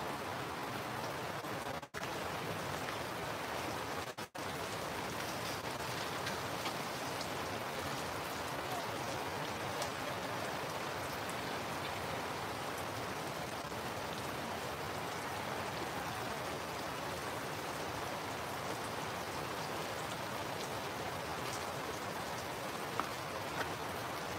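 Steady, heavy rain pours down continuously, a dense even hiss of drops on surfaces with no voices.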